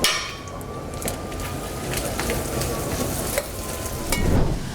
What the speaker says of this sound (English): let this all saute until your onions start to clear